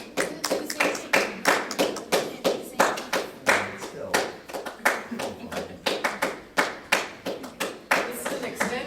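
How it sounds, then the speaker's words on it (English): A class claps together at a presentation, the hands striking in a long, steady run of sharp, close claps that continues across the whole stretch. "This is an extended clap here."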